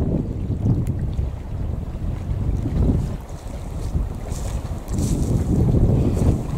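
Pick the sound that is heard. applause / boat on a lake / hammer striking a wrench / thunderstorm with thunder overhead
boat on a lake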